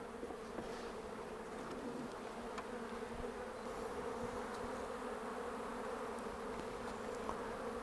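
Honeybees buzzing around an open hive during a spring inspection, a steady, dense drone of many wings close by, continuous and fairly quiet with no talking.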